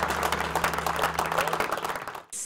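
Brief, lively applause and clapping from a live concert audience, dense and close, ending abruptly.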